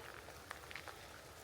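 Rain falling during a wet walk in Malta, a soft, steady wash of drops with a few brief sharper patters, fairly quiet and with no talking.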